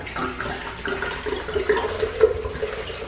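About a liter of water pours into a blender over kale leaves and the juice of four Tahiti limes for a homemade kale lemon juice. It makes a continuous close splashing rush with no talking.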